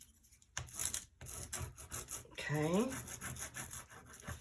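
A Prima adhesive foil transfer is rubbed down onto a surface, giving close, scratchy rasping strokes in an uneven rhythm, with a brief spoken word near the start.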